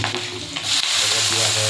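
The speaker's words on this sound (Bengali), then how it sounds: "তো তেল গরম হয়ে গেছে, এর মধ্যে লঙ্কা আর হচ্ছে রসুন" Green chillies and garlic drop into hot mustard-style cooking oil left from frying aubergine, bursting into a loud, close crackling sizzle that swells after a brief stir and keeps hissing steadily.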